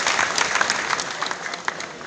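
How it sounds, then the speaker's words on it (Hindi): A crowd at a political rally in the grain market at Chhachhrauli claps in welcome, a dense, steady round of applause from many hands. It is heard alone and slowly thins toward the end. "एक बार ताली बजा करके उनका स्वागत करें"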